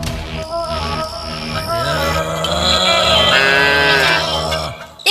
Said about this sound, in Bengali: এ কি, এত রাতে গরু ডাকছে কোথায়?